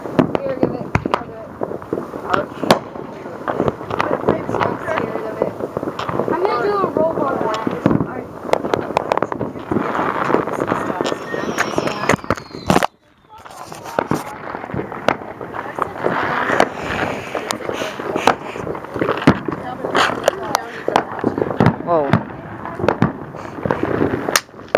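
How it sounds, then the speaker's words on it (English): A smoke bomb firework set off outdoors at a Fourth of July gathering, giving sharp crackling pops and fizzing bursts through most of the stretch while several people talk and exclaim nearby. "It's a smoke bomb. You have to pull up the string."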